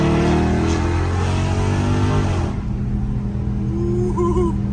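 A catless Dodge Charger Scat Pack roars loudly on back roads, revving hard for a couple of seconds before easing off into a lower, steadier engine rumble, close and raw with no talking.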